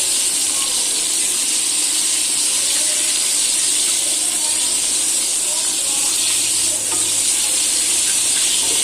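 Chicken fry pieces cooking in a pan over low heat on an induction cooker, browning as they fry: a loud, steady, close sizzle with a dense, bright hiss that carries on unbroken throughout.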